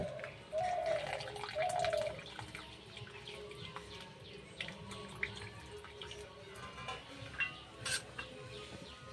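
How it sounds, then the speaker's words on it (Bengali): Boiled chowmein noodles being drained through a strainer in a village kitchen, a brief rush of pouring water at the start giving way to scattered drips and small splashes, moderately quiet. "চাউমিনটা সেদ্ধ হয়ে গেছে এবার আমি ছেঁকে নেব"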